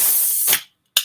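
A can of Sex on the Beach drink (10% alcohol) is cracked open with a sharp, close hiss of escaping gas, a brief silence, then a second short hissing burst.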